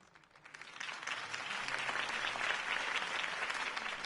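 Crowd applause after a campaign speech in the Batman Telltale video game, swelling from quiet to a steady wash of many hands clapping, fairly distant and continuous.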